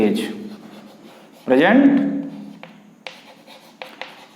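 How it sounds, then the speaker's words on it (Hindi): An answer being written by hand for a class 8 maths problem: a few short, scratchy pen strokes follow a voice that speaks at the start. "तो लिखेंगे अपना आंसर"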